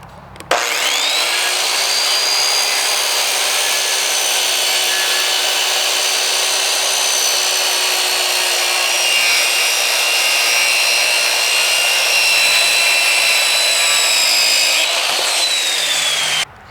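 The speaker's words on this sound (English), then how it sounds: "we're going to take the circular saw again and just do the exact same thing." A circular saw cuts through wood while building a bench: a loud, steady high whine runs unbroken for about fifteen seconds, then winds down as the blade leaves the board.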